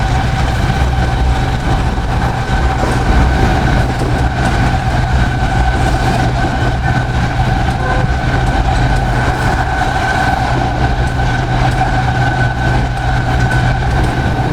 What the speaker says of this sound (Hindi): ट्रेन की कुछ यही स्पीड है, 105 104 105 105 से ऊपर नहीं जा रहा लोकोमोटिव